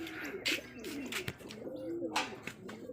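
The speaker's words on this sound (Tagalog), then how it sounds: "So ito na mga kalapatids, kompleto na tayo." Racing pigeons coo softly in a loft, several overlapping low murmuring calls with light wing and shuffling noises, fairly faint and close.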